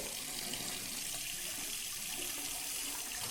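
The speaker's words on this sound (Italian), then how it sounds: "Riempio la mia ciotolozza di acqua calda, ma bella calda" Hot water runs from a tap into a shaving bowl, a steady, even rush of flowing water, close and moderately quiet, heard alone without speech.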